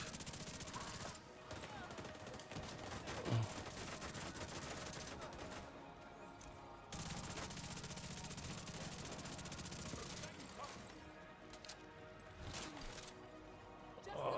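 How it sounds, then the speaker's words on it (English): Gunfire from The Division 2 video game rattles in repeated automatic bursts, loud and dense, broken by brief pauses, with a faint voice talking underneath at times. "I missed a lot of shots right there"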